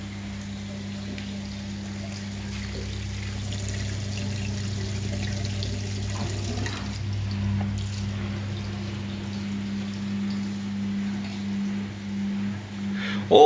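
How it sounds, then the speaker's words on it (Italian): An Electrolux EWF 146410 W washing machine pumps out water after its fifth and final rinse: a steady, close hum from the drain pump under a continuous rush of draining water, with a faint clunk near the end. "Scarico dell'acqua del quinto ed ultimo risciacquo."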